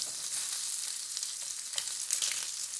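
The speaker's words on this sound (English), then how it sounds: "Spice seasoning chicken with the stir fry with a fry pan." Spice-seasoned chicken stir-fries in a fry pan, giving a continuous close hiss and crackle of sizzling throughout, with no voices.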